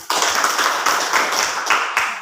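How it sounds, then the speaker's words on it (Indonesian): A classroom of students claps hands together in a quick, fairly loud burst of rhythmic clapping lasting about two seconds. "Tepuk tangan."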